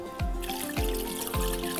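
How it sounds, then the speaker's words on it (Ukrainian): Mushroom broth pours and splashes into a pot of red borscht in three short bursts, with a steady trickling sound between them, close by. "додати йому воду з грибів"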